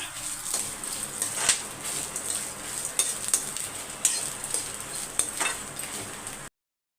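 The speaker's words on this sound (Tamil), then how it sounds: "தேங்காவை நல்லா வறுத்து எடுத்துக்கோங்க" Grated coconut roasting in a pan for sambar gives a soft, faint sizzle, with repeated light scrapes and clinks of a spoon stirring against the metal, and then the sound cuts off abruptly.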